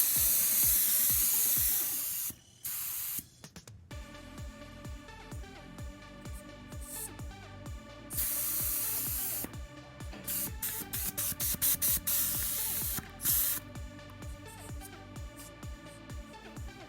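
Air hisses out of a bicycle tyre's opened French valve in loud, steady spurts, broken into bursts of varying length with clicks and short gaps between them.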